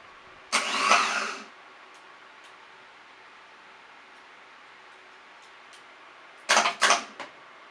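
Car starter motor cranking the engine in two bursts: one short whirring spin early, then silence, then a second stuttering crank of several quick pulses near the end, close and clear.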